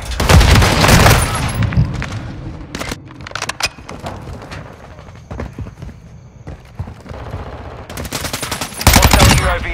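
Semtex grenade explosion amid gunfire in Call of Duty: Modern Warfare 2, with a loud blast at the start and another near the end and bursts of rapid gunshots and clatter in between.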